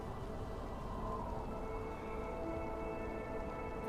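Light drizzle and wind make a soft, continuous hiss that stays even and fairly faint throughout, with no voices.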